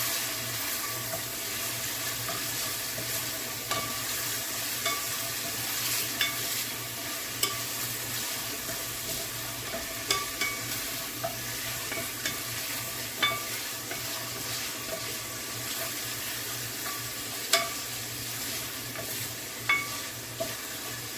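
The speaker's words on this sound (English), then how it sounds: "Just frying it up a little." Food sizzles steadily in a hot pan for a long stretch, with occasional small clicks and scrapes of stirring, close up and with no talking.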